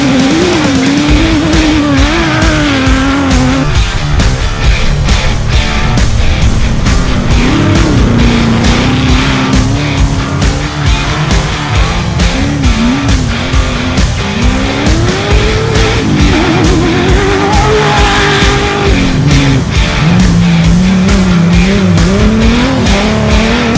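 Race cars at speed during a qualifying session for the Mid West Challenge, engines roaring loud and continuous with shifting pitch, and tires squealing through corners for the whole stretch.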